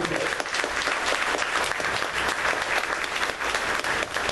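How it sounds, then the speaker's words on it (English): Sustained, loud applause from an audience at an awards ceremony, dense steady clapping filling the whole stretch without a break. "I'd like to give a big round of applause for this great woman."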